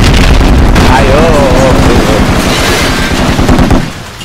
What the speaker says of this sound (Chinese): 这东西突然爆炸。